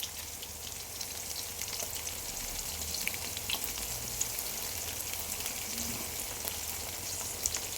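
Ginger garlic paste sizzles in a pan with browned onions, a soft, steady crackle and hiss with faint stirring scrapes, quiet and continuous throughout.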